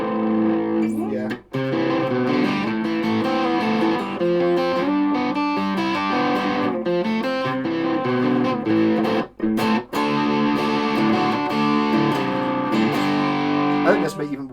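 A heavily distorted electric guitar plays continuously, thick and saturated, with chords ringing out and only a few brief gaps.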